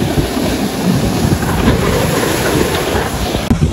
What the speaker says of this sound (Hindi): तो यहाँ से पानी नीचे जा रहा है